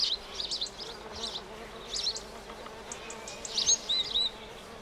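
Tiny halictus bees work a pink rock rose for pollen among wild orchids in Israel, giving faint, intermittent buzzing with short high-pitched bursts over a quiet outdoor background.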